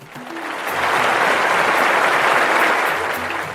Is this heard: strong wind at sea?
no